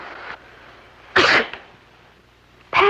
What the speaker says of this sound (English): Patty, you sneezed.